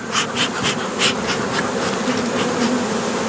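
Honey bees swarm around an open hive while being fed a pollen substitute patty and sugar syrup, a dense, steady close-up buzz with brief louder swells as individual bees pass near, continuous throughout with no talking.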